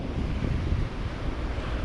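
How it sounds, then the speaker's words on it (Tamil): Rough sea waves churned up by a storm at a harbour give a dense, continuous roar, heavy with wind buffeting the microphone. "கடல் எல்லாம் இந்த அலை அடித்து கலங்கி போயிருக்கு"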